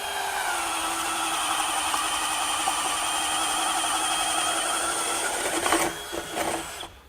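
A Ryobi HP One+ right angle drill bores a one-inch hole, its motor whining steadily at a high pitch for several seconds before slowing and bogging near the end, loud and close with no talk.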